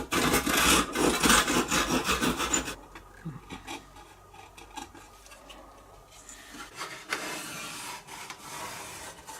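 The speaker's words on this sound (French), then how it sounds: "Pour couper les tourillons à fleur de l'éclisse, j'utilise une scie japonaise" A Japanese pull saw cuts beech dowels flush on a hurdy-gurdy build, loud rapid rasping strokes for a few seconds, then quieter intermittent scraping, close up.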